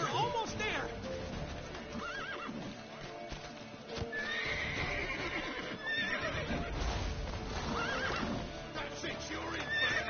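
In a video game, a horse whinnies and neighs several times over steady clip-clopping hooves, while voices talk over the galloping.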